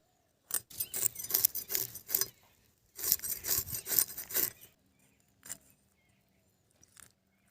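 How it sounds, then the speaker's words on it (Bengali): Small live pond fish such as koi, tengra and puti are cut by hand, giving close, faint bursts of scraping and rasping in two clusters, followed by a few isolated soft knocks. "মাছগুলো এখন আমি কেটে নিচ্ছি"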